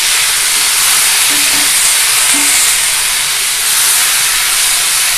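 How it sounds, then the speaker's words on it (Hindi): Pumpkin leaves being stirred and fried in hot oil in a pan, giving a loud, steady sizzling hiss throughout with a couple of faint clinks of the spoon, and no talking. "इसे अच्छे से चलाते हैं। बढ़िया से इसको उलट पलट कर दीजिए"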